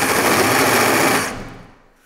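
Step drill cutting through sheet metal from the reverse side, a loud steady rattling grind that stops abruptly and fades into a brief ringing tail.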